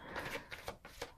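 Large tarot cards are shuffled in the hands, a quiet close series of soft riffling slaps and papery flutters in short irregular bursts.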